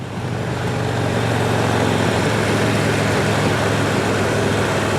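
A motorcycle is throttling up to get around a semi truck on a two-lane road, heard as a loud, steady engine drone mixed with wind and road roar.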